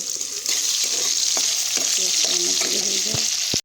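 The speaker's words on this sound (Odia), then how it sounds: "ତରକାରୀ ପାଇଁ ମୁଁ ତେଲ ଦେଇଦେଇଛି, ପିଆଜ ଦେଇଦେଇଛି।" Onions fry in oil for a fish and potato curry, producing a continuous, fairly loud sizzle broken by occasional spatula scrapes and clinks against the pan.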